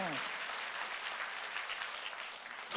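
A congregation claps together during a church worship service, a dense, even burst of applause filling the room for nearly three seconds.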